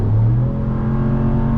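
A 2026 Ram 1500 Laramie pickup with a naturally aspirated HEMI V8 revs hard from inside the cabin, a loud, deep, steady engine roar that holds throughout with no talking.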